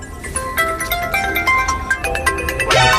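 Melodic electronic phone ringtone playing loudly and close in an indoor comedy scene, a repeating chiming tune with bright sustained notes and a rising sweep near the end, no talk over it.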